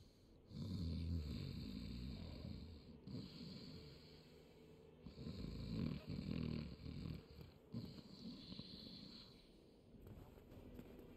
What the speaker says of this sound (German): Wer oder was schnarcht?